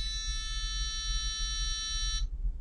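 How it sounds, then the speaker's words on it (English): A piezo buzzer on a microcontroller board driven by PWM sounds a steady, shrill, continuous tone for about two seconds and then cuts off abruptly, loud and close against a low background hum. "So you can hear my buzzer went off for 2 seconds."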